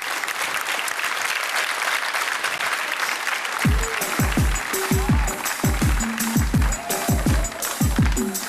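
A concert audience bursts into applause to welcome a singer onto a stage, starting after a few seconds of quieter hall noise and building into sustained, loud clapping mixed with short musical notes.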